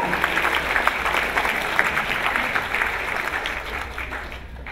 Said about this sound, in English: I would really like for all of us also to give them a big round of applause.